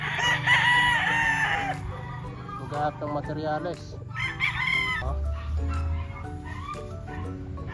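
A rooster crows loudly near the start at a backyard poultry breeder's in Lipa, Batangas, Philippines, followed by other fowl and a barking dog, while someone talks over the barnyard noise.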